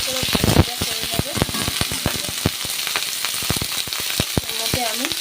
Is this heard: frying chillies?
yes